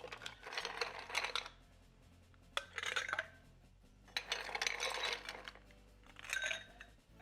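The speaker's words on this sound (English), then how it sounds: "Let's get some ice in there and stir it up." Ice cubes clink and rattle against a mixing glass as a rye cocktail is stirred, in several close bursts of bright jingling separated by short pauses.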